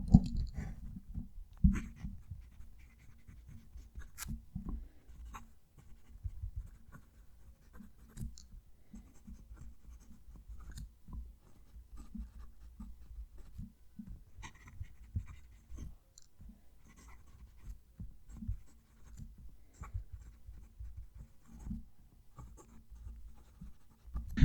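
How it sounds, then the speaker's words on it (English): A fountain pen scratches and glides across thin 52 GSM paper, picked up by a mic held close to the page, giving a steady run of soft, dry strokes and small ticks with no talking. "I'll hold the mic down near the page so you can actually hear that pen write."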